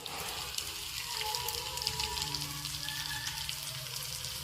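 Crushed garlic and dried red chillies fry in hot oil with popped mustard seeds for a potato fry, giving a steady, close crackling sizzle throughout.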